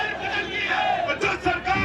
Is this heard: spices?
no